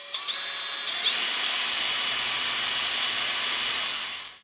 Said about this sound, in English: So time to get the drill out again.